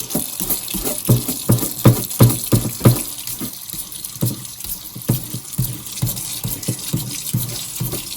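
Running water splashes steadily with repeated scrubbing and swishing bursts, close by, as a paintbrush is rinsed under a tap with plain water; no talking.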